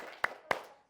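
Two sharp claps about a quarter second apart, fairly quiet, a class's rhythmic spirit clap before an Indonesian lesson, with no voices.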